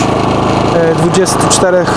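A portable power generator engine revs high and runs steadily up close, with a continuous buzzing drone and some pitch shifts as it loads up.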